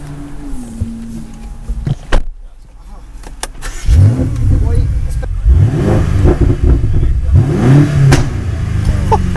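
A BMW M5 Competition engine revs up loudly after a brief quiet gap, roaring in surges with deep throaty pulls, close by.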